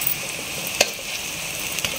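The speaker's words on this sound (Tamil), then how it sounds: "அதனால் இப்போ நல்லா வதக்கணும்." Onions and tomatoes sautéing in a pan for a Tamil fish curry: a continuous close sizzle with a couple of sharp clicks from the spatula. No voices.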